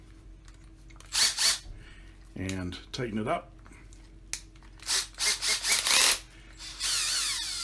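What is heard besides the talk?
drill turning Dunlop string winder attachment on guitar tuner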